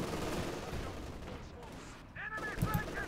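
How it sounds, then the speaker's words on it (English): Machine gun fire from an MG34 in Company of Heroes 2 crackles through dense battle noise, with sharp bursts near the end standing out over the constant din of distant gunfire. "Is this shooting the MG?"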